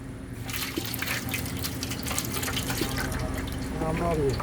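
Wet clay slurry, soaked in water for several days, being poured and strained through a sieve to catch pebbles and grit, giving a steady close watery gushing and dripping with a faint voice underneath.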